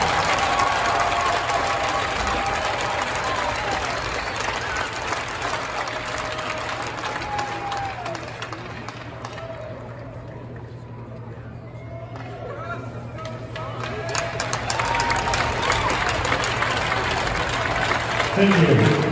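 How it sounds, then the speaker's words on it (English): Applause rises for a former Iron Range senator and Denver hockey player, a broad, sustained clapping that dips to a thinner patter midway and then swells again, with a constant low hum running underneath. "Please give a round of applause for David Tomassoni."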